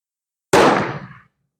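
A single rifle shot firing a 49 grain bullet from a Portuguese Vergueiro: one sharp, loud crack close by, followed by a short decaying echo, then silence.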